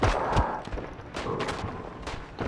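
Austro-Hungarian eight-round semi-automatic revolver fired in the World War I shooter game Isonzo, a few sharp shots and thumps at mid distance over a busy battlefield rumble, with no voices.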